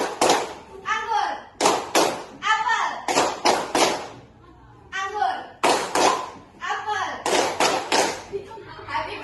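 Children clap their hands in quick bursts of about three claps during a classroom game at an Islamic boarding school, the sharp, close claps repeating in groups with a teacher's and kids' voices talking between them.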